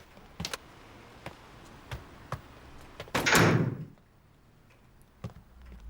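An indoor door is pushed shut and blocked, producing one heavy, close thud and scrape midway, with scattered light ticks and clicks before and after in an otherwise quiet room.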